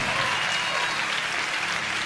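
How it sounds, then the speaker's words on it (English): An audience in a church-style event bursts into loud, sustained applause, a dense wash of clapping that carries on without a pause. "can you just take a minute and send a round of applause in this room"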